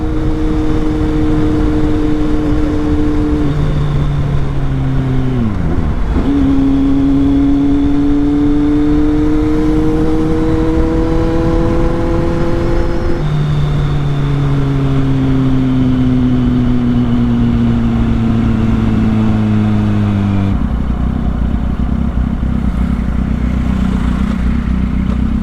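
A Kawasaki Z800 motorcycle cruises along a highway, its engine note holding steady and rising through gear changes, with continuous wind rush and road noise throughout and no talking.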